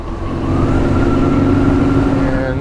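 A 2022 BMW R nineT motorcycle engine revs steadily and loudly up through the gears while riding, a sustained close droning roar with rising pitch and no talking.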